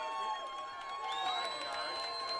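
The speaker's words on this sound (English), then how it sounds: "Hudson crowd on their feet" A high school football crowd at a Hudson Raiders versus Bay Port playoff game cheers on its feet, a sustained distant roar mixed with shouts, whistles and audible voices.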